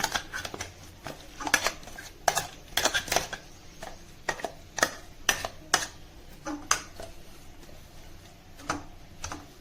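Corn vada batter is mixed by hand in a bowl, giving a steady run of sharp taps and clicks against the bowl at a fairly regular rhythm, close and moderately loud.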